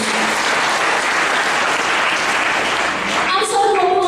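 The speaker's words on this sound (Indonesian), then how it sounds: "Berikan tepuk tangan untuk darah Yesus." A church congregation at a seminar in Kupang applauds in a loud, dense, continuous burst, with a voice starting over the clapping near the end.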